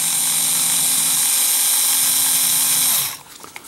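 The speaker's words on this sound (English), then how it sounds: "need to do some very light drilling" A small WORX cordless drill whines steadily at high speed for about three seconds, then winds down and stops, leaving quiet room noise.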